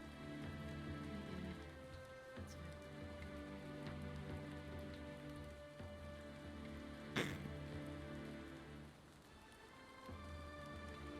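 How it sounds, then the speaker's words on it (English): Steady rain falls at night where someone is trying to sleep, a dense continuous patter at fairly even loudness with a low constant hum beneath and one brief sharp crack partway through. "hopefully the rain will let up and it'll be easier to sleep"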